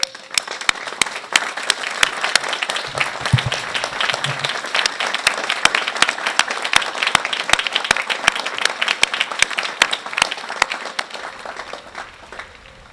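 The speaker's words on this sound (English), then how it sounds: "I ask the graduates to stand and join me in a round of applause to honor and thank them." A large audience applauds at the University of Virginia School of Law 2012 commencement as graduates stand to give thanks. Sustained, dense clapping runs for about thirteen seconds, with sharp individual claps standing out, then tapers slightly at the end.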